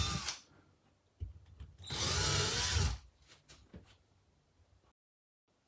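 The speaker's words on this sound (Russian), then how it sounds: "Просверливаем отверстие." Power drill boring a hole to mount a fireplace vent grille, a short burst of whirring lasting about a second, framed by small handling knocks and clicks, close and otherwise quiet.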